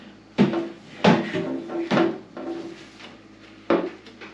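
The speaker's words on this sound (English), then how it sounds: "stuff gets stuck down in here and you can't get it out unless you take the drawer apart" A plastic refrigerator drawer is pried apart with a screwdriver, giving several sharp, close clacks and knocks in an irregular rhythm, with quieter rattling between them and no talking.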